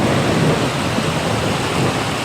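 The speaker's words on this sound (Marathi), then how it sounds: "बघा कसला पाऊस पडला" Heavy first-of-season monsoon rain pours steadily in a village, a dense continuous roar with deep rumbling of thunder beneath, loud and close throughout with no voices.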